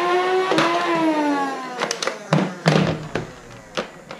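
Nerf Gold Fang blaster powered by lithium batteries, its motor whirring up with a falling pitch before a few sharp thunks and taps of darts firing, close and loud.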